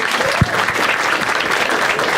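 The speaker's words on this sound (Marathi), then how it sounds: "एकदा टाळ्या होता त्या दोघांसाठी." Crowd applause for two people at a lively Marathi gathering, a dense, steady wash of clapping close by that lasts about two seconds with no break.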